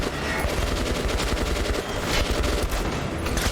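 Heavy, continuous gunfire in the video game Metro: Last Light Redux, a loud, dense barrage of rapid shots and bursts filling the scene without pause.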